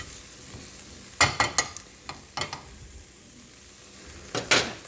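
Four ounces of 96% lean ground beef cooking with chopped onions in a pan give a low sizzle, broken by several sharp bursts of spatula scraping and stirring, some in quick pairs.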